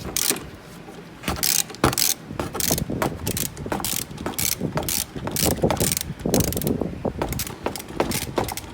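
A ratchet wrench loosening a bolt on the tensioner of a Dodge/Chrysler/Jeep 2.4L engine, rapid clicking bursts repeated in uneven runs with brief pauses, close and fairly loud, no talking.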